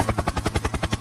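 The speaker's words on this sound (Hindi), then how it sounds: "Helicopter helicopter." A video game helicopter gives a steady, loud, rapid rotor thump that pulses evenly, with no talk over it.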